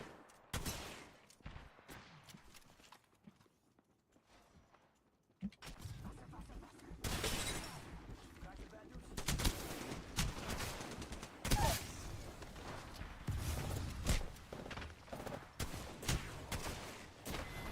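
Grenade blasts and heavy gunfire in the battle game Apex Legends, loud dense bursts of explosions and shots that thin out briefly then return in a sustained barrage.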